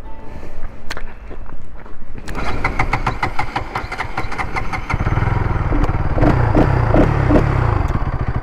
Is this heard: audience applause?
no